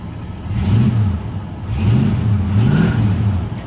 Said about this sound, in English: 2 pumps on the gas and it fires up